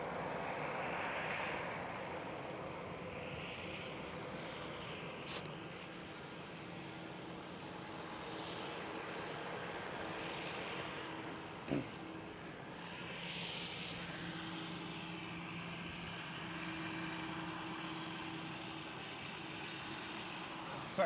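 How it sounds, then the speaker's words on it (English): An Airbus A380 takes off at Amsterdam Schiphol, its distant jet engines giving a faint, steady broad roar that holds for a long stretch, with intermittent talk over it. "Very nice takeoff there from the A380."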